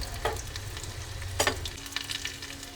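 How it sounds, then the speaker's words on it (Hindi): Ghee tempering for sarson ka saag (mustard greens) sizzles steadily in a pan, with a couple of sharp scraping stir strokes over a low hum and no talking. "सरसों के साग में इस तरह से घी का तड़का लगाना बहुत ही स्वादिष्ट लगता है।"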